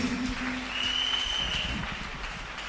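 A church congregation applauding: a moderate, steady patter of clapping with faint tones and voices mixed in underneath.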